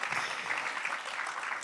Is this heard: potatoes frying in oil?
no